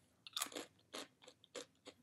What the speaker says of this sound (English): Can you hear me crunching it? It's this little crunchy drop of cheese.